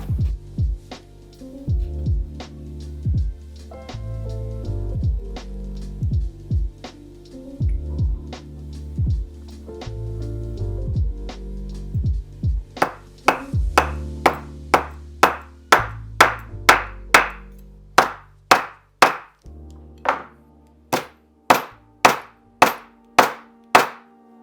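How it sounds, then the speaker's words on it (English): Repeated hammer blows flatten metal rivets against a hard surface in leatherwork, starting as dull thuds and turning into sharp, ringing taps in a steady quickening rhythm. "I just use something hard for the surface and a hammer, and that will make the rivet flat"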